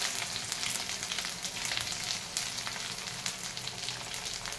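Onion, ginger and curry leaves frying in hot oil for an aloo batani curry, a steady close, dense sizzle with light crackle throughout and no talking.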